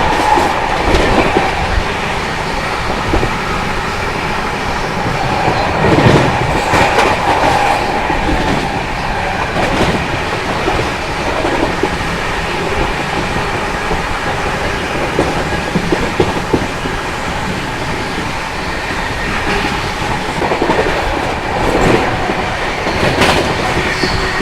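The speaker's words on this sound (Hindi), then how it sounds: "बाकी मस्त यहाँ पे 130 पे अपनी कर्नाटका संपर्क क्रांति एक्सप्रेस भाग रही है" The Karnataka Sampark Kranti Express runs at about 130 km/h, with a loud continuous rumble and rhythmic clatter of wheels on rails and no talking.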